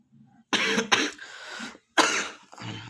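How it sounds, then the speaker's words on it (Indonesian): Several harsh coughs in a row, close and fairly quiet, with short pauses between bursts and a little throat clearing. "Agak batuk-batuk sedikit."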